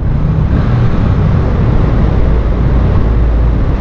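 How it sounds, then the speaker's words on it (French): Car engine idling on a California road trip near Yosemite, a loud, continuous low rumble heard from close by with no talk over it. "Je fais ronronner le moteur."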